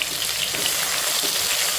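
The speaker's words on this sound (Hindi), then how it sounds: "इसे अच्छा गोल्डन होने तक हम फ्राई करेंगे।" Two large, finely chopped onions fry in hot oil in a home kitchen, giving a steady, close, continuous sizzle with no talk over it.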